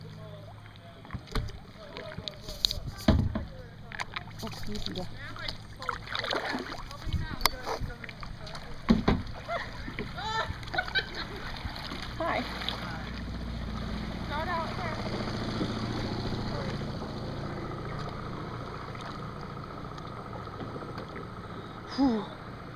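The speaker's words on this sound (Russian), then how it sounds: "Опять лодка." A motorboat drones past over rippling water at Weeki Wachee Springs, rising to a steady rumble mid-clip, with a brief spoken remark and splashy paddle sounds early on.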